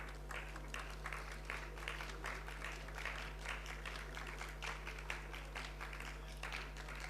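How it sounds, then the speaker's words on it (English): Sustained crowd applause at a college convocation for graduating students, a continuous dense patter of many hands with rhythmic surges, steady in loudness over a low mains hum. "Every student deserves an applause here,"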